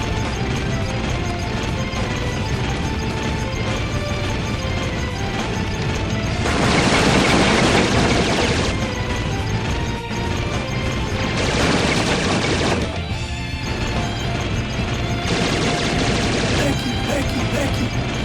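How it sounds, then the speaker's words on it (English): Rocket launcher in the Metal Slug 3D video game fires amid a busy battle soundtrack, with several sustained bursts of blasting explosions over constant music and effects. "Rocket launcher."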